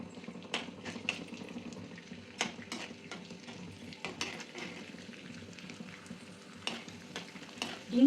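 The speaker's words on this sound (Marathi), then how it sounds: "आपण थोडे थोडे करून हिंग तळून घ्यायचं आहे" Edible gum fries in a generous amount of ghee in a pan, giving a quiet continuous sizzle. Sharp clinks and scrapes of a spoon stirring against the metal punctuate it at irregular intervals.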